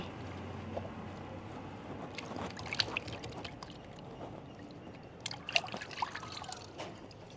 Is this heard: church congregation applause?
no